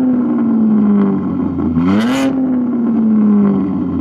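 A BMW M4 G82 with a full exhaust and front-mount intakes in Sport Plus mode roars loud and close, its engine tone sliding down, then rising sharply through a quick rev with a crackling burst before settling into a steady drone.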